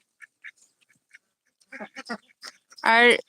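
Ducks on a farm during hot weather give scattered short quacks that swell into a loud, close burst of quacking at the end.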